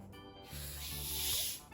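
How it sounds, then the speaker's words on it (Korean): A fermented kombucha bottle is opened, letting out a steady hiss of escaping carbonation that swells and fades over about two seconds, close to the microphone with no talking. "꼭 콜라 사이다를 따는 듯한 그런 소리가 들리시죠?"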